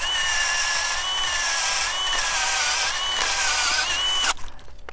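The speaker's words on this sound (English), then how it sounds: "And then it did. I've drilled a hole," A Power Planter gardening auger drills into the soil of a clover field with a steady, loud motor whine and grinding, then cuts out abruptly near the end, leaving quiet.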